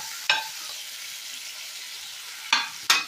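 Onion, tomato and capsicum frying with kasuri methi in a pan for a Bengali doi chingri dish: a steady close sizzle, with three sharp stirring scrapes, one early and two near the end.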